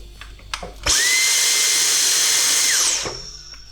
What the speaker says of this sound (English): I found useful to use a Dyson at full speed